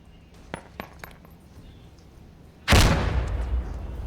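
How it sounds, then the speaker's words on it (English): A grenade is thrown into a room in the tactical game Door Kickers 2, with a few small clinks and taps as it lands, followed by a sudden loud, booming blast that rumbles and slowly decays. "Let's throw your one grenade in here."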